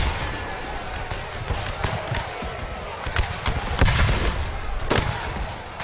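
A pistol shot in an American Civil War battle game rings out among repeated sharp cracks of musket fire over a continuous rumbling battlefield din, with no voices.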